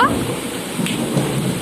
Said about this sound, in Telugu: ఎట్లా ఉరుముతుంది